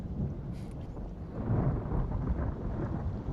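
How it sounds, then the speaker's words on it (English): Rain and rumbling thunder during an FPV drone flight at night, heard as a steady, loud wash of low rumble and rain noise with wind buffeting the microphone, no voices. "It started raining while I was mid-flight."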